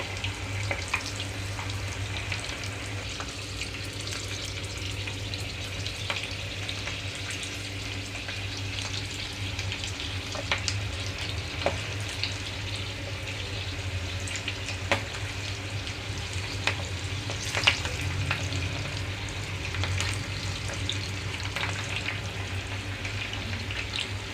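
Sweet corn and onion pakodi dough balls frying in hot oil, a steady dense sizzle and bubbling that holds evenly throughout, with occasional faint clicks and pops, no voices.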